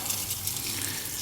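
A steady, close rush of tap water runs while a bicycle is rinsed off during cleaning, a dense hissing flow with no pauses.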